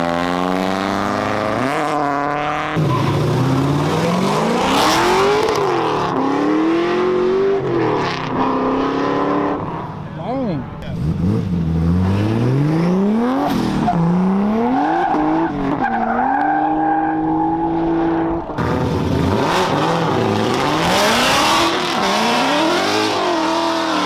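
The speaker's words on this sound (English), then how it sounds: "We're making our way down here where the drift ride-alongs are." Drift cars at a car meet rev hard and scream through slides, engines rising and falling in pitch with squealing tires, loud and close, passing in repeated aggressive bursts.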